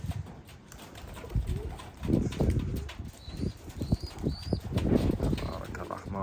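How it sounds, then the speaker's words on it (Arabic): Shami pigeons cooing up close in soft, low repeated coos, with wing flaps and rustling among the birds, and a voice speaking in between. "خلينا نقرب شوي على الطيور اللي هي هون."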